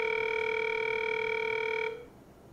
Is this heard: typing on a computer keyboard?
no